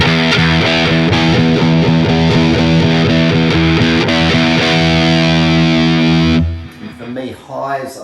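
Heavily distorted electric guitar played through a Peavey 5150 amplifier, dense rhythmic chugging chords for about six seconds, then an abrupt cut to quieter low rumble and handling noise.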